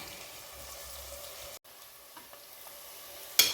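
Chicken biryani ingredients frying in a pan make a soft, steady sizzle throughout, fairly quiet, with a brief clatter near the end.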